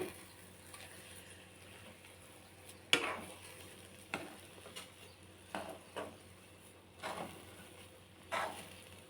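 Upma being mixed with grated coconut and coriander in a pan, a spoon scraping through it in a handful of separate strokes spaced a second or so apart, quiet and close.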